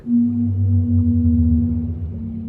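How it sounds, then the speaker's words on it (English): Minecraft ocean ambience from the video game: a low, sustained whale-like droning moan with steady tonal layers, loud and continuous, nothing else present. "This is the sound of Minecraft."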